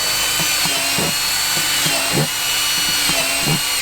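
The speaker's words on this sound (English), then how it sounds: "take a drill on the bottom and just drill a few holes in there" Loud whine of a power drill running close by, with rhythmic grinding bursts as it bores holes through the bottom of a bucket; no speech.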